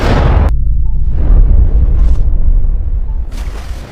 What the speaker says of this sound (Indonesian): Frontman dengan berat hati menembak adiknya